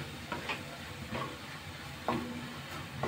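Curry leaf powder and two cut dried chillies are stirred in a pan over a low flame, giving a few soft scraping strokes over a faint, quiet sizzle, with no speech.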